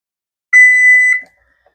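A kitchen timer sounds one loud, sustained electronic beep lasting about two-thirds of a second while strawberry pie filling cooks on the stove, then cuts off into silence.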